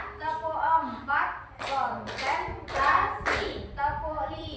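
A school class claps in a counted clapping routine, sharp groups of claps between rhythmic chanted children's voices, close and lively.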